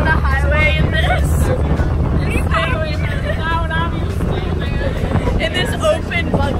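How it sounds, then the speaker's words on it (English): Strong wind buffets the microphone in an open buggy on a highway in Punta Cana, a loud, constant rumbling roar with people talking over it. "Oh my god, it's so windy."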